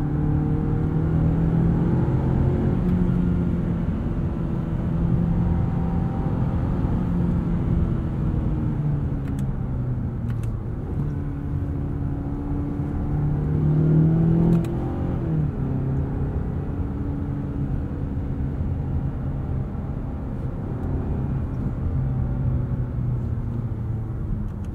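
A 2020 Mazda 6 Signature car engine drones steadily, its pitch rising and holding high at redline as it revs, with a brief surge midway on a backroad; no talking.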